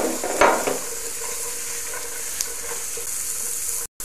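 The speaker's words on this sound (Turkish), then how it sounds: "sert olan sebzeleri biraz kavurdum" Carrots and beans sautéing in a pan for minestrone soup sizzle steadily, with a scrape and clatter of stirring near the start and a soft clink later.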